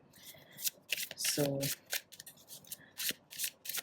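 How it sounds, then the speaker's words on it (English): Tarot cards being shuffled by hand in repeated dry riffling bursts, close and fairly loud, with a brief spoken word partway through. "let's shuffle the cards properly"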